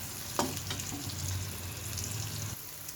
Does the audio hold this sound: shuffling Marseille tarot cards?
no